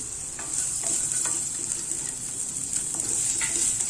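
Chopped onion sizzling and frying in hot oil in a pan for masala sundal, close and steady, with intermittent scraping stirs throughout.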